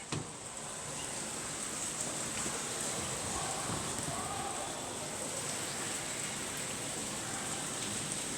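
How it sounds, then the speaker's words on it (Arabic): Steady rain falls in a dense, even hiss, pattering continuously on nearby surfaces throughout. "سامعين يا جماعه الدنيا بتشتي ازاي؟ الدنيا بتشتي عندنا كده دلوقتي"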